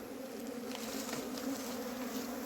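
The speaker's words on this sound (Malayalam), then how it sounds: "ഇതിനകത്ത് ഈച്ച കേട്ടോ" Bees hum inside a large wild honeycomb in a cardamom forest, a steady low drone with faint higher buzzing, close and continuous.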